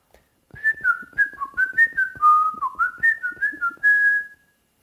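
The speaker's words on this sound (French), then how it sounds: "il n'arrête pas de siffler à côté de toi. Siffler, c'est ça." Someone whistles a lively, wavering tune up close, a quick string of bright notes sliding up and down for about four seconds.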